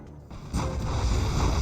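Heavy booming explosions from bomb runs on an aircraft carrier in Red Alert 3 erupt after a brief quiet moment, two deep blasts in quick succession followed by a rolling rumble.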